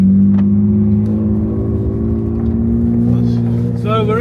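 A 1200hp BMW G81 M3 on a launch-control run, its engine holding a loud, close, droning note that climbs slightly in pitch, with voices breaking in near the end.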